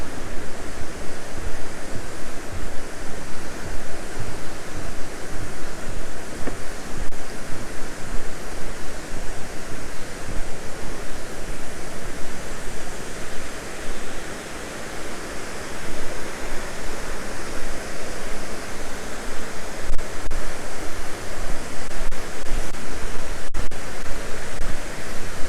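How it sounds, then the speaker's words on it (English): Steady, loud rush of water pouring over a weir in Roe Valley Country Park, a continuous broadband roar with no pauses, close by and unaccompanied by voices. "Hear the sound now of the weir."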